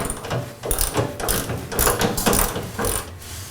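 A ratchet clicks in quick repeated bursts while removing the stock skid plates from a 5th-gen Toyota 4Runner, close and fairly loud with brief pauses between strokes.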